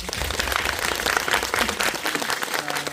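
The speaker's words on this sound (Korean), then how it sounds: "두 분에게 박수 좀 부탁드립니다." Audience applause for two guests at a special talk on art director Ryu Seong-hee's films and life: dense, steady clapping fills the whole span, with a faint low hum near the end.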